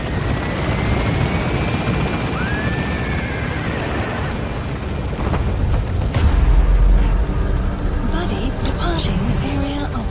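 The Pequod helicopter in Metal Gear Solid V: a loud, continuous rotor roar with steady engine drone, swelling midway as it comes in, with a voice speaking over it.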